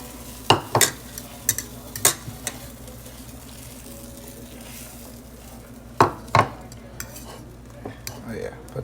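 A banana pancake cooks in a pan with a soft sizzle beneath sharp clinks and scrapes of a utensil against the pan, spaced irregularly, close up.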